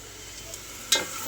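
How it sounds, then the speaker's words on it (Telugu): Chopped onion frying in a pan for a boti curry, a soft steady sizzle with a single sharp clink of a spoon against the pan near the end. "మనకి ఉల్లిపాయ కొంచెం ఫ్రై అయ్యింది కదండి."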